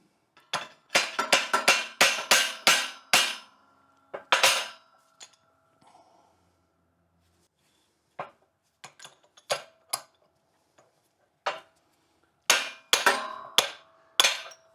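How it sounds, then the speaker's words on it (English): Sharp metallic hammer blows ring out in quick bursts as a bearing press sleeve is hammered out of a drill press quill, then scattered single strikes after a pause, clanking against metal with no talking. "We should be able to just hammer this out."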